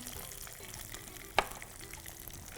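A soft, steady sizzle of onions frying in hot oil, with a single sharp clink midway, quiet and close.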